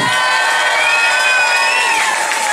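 Carnival crowd in a jubilee season-closing celebration, cheering and whooping loudly for the prince, a dense continuous roar with shrill whistles and shouts throughout.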